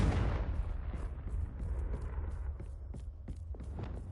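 The Confringo explosion spell in Hogwarts Legacy bursts with a deep rumbling blast that fades over a few seconds, followed by a series of faint, evenly spaced clicks and taps.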